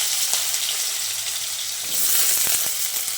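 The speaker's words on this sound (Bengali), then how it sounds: "আলুটাকে তেলের মধ্যে দিয়ে দিচ্ছি।" Diced potato cubes hiss and sizzle in hot oil in a wok, a steady dense frying crackle with a few sharper spits and scrapes toward the end.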